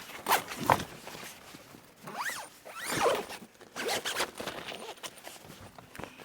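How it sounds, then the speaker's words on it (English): A tent zipper on a GoFast camper zipped in several quick, raspy pulls, close by, with short pauses between strokes and some faint rustling. "And finally doing the flat zipper right here."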